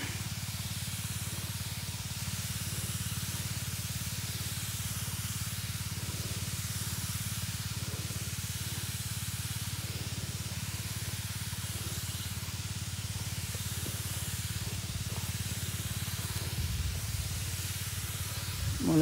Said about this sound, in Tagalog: Spray tayo ng pang-uod.